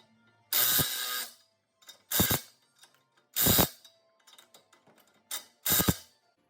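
A ratchet wrench tightens exhaust bracket bolts on a Willys Jeep CJ2A: five short, close bursts of rapid clicking, separated by brief quiet gaps with faint metallic ticks between them.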